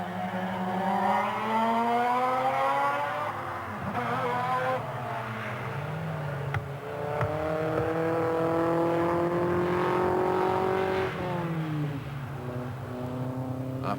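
A touring race car lapping the Wellington street circuit in 1988, its loud engine note climbing and dropping steadily through the gears, continuous and close throughout.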